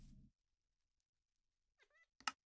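A house cat meows in a short, high-pitched burst close by in a quiet room, with a louder, brief cry following right after; a faint rumble comes just before.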